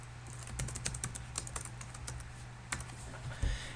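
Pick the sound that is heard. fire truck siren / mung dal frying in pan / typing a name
typing a name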